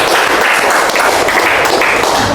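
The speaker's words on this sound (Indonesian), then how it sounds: "Tepuk tangan dong buat." A classroom audience claps steadily for about two seconds, giving a continuous, fairly loud wash of applause with no speech on top.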